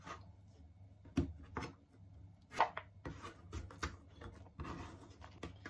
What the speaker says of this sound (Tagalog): Ganito po ang paghiwa. Manipis lang po na mahaba.